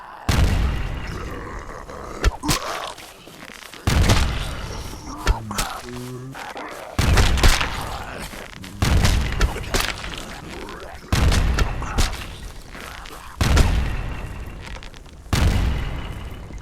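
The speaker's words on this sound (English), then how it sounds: "There's a lot of explosions." Explosive arrows detonate again and again in the survival video game No One Survived, a series of loud booming blasts at irregular intervals with game sounds and a voice talking between them.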